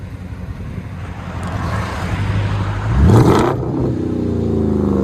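A 2017 Jeep Grand Cherokee with a 5.7L HEMI V8 and dual exhaust through Xlerator mufflers idles with a deep burble, then a quick rev swells into a loud roar and settles back into a steady low rumble.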